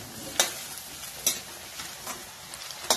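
Finely diced pieces roast in a pan for sabudana khichdi, giving a soft steady sizzle broken by several sharp scraping stirs of a spoon.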